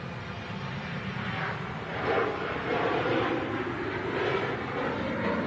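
A Virgin airliner taxis out at Manchester Airport, its engines a steady distant roar that swells slightly partway through and then holds, with no one talking.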